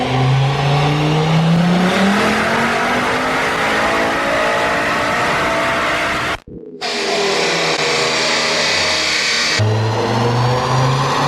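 A loud car engine revs up steadily to a high whine on a dyno, cuts out briefly, then roars back before dropping toward a lower drone.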